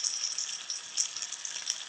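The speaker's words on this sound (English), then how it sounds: "I'm gonna start this skin side down. Right here, beautiful sizzle." Fish fillets laid skin side down in a hot pan for tacos, giving a steady, close hiss of frying oil with faint crackling pops and no talking.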